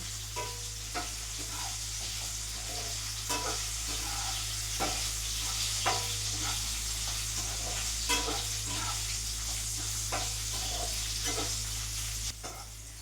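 Okra frying in oil while being stirred and turned in a pan, a steady sizzle with repeated sharp scraping strokes at an even pace, close and moderately loud, no voices.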